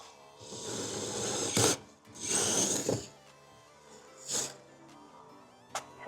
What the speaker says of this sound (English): we'll go back in here with the drill bit and hopefully we got a nice clean circle here